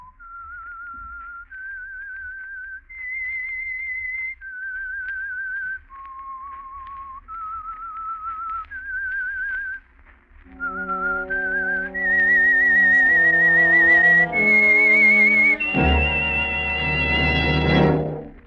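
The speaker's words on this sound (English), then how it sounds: "That whistle is your signal for the Signal Oil program, The Whistler." A lone whistler carries the eerie theme signal of The Whistler radio mystery program, a slow melody of clear sustained notes that is then joined and swelled by an orchestra toward a loud finish.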